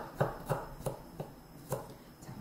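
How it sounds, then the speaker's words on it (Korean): A knife slices garlic into thin pieces on a cutting board during Chinese cooking-exam prep for lajiji, with about seven crisp, evenly spaced chops close by and no talking. "마늘 편 썰어주고"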